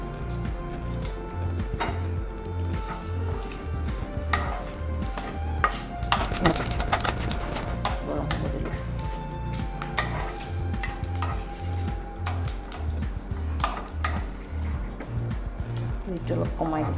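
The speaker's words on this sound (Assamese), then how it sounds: "তেলখিনি গৰম হৈছে, পাঁচফোৰণ দিলোঁ, 2টামান লং, ইলাচি দিলোঁ" Panch phoron, cloves, cardamom and bay leaf frying in hot oil in a pan: a steady close sizzle with spoon stirring and clinks against the cookware, under nearly constant talking.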